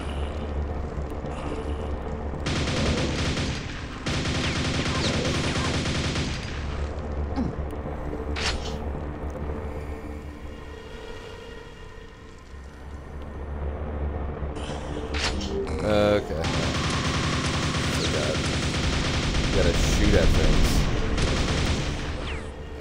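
Gunfire in a shooting video game, with bursts and volleys of shots layered over steady game sounds and background music across the stretch, fairly loud throughout and with no talking.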